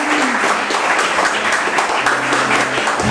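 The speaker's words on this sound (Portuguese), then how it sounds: "E as palmas do nome do Senhor bem forte" A church congregation claps strongly in praise during a service, a dense, steady wash of hands that holds loud and even throughout, with a low sustained tone underneath.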